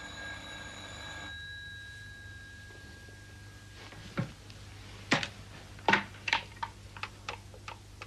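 A telephone rings with a steady electronic tone for about a second, followed by quiet and then a series of sharp clicks and taps, heard alone in an office setting.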